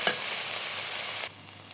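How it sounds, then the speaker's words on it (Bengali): Spices with salt, turmeric and coriander powder fry in hot oil for a banana-blossom dish, giving a steady loud sizzle that cuts off abruptly near the end, leaving a faint background hiss. "এবার সব মশলাগুলো তেলে দিয়ে দিলাম। ভালো মতো নেড়ে চেড়ে মিশিয়ে নিব।"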